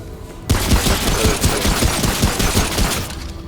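Rapid automatic gunfire in the video game Remnant, loud close bursts of evenly spaced shots that start abruptly and run continuously for several seconds.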